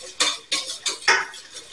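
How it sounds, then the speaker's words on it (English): Eggs being stirred into hot garlic soup with a utensil scraping the pot, several quick, close scrapes and clinks in an uneven rhythm, with no voice over them. "And keep stirring."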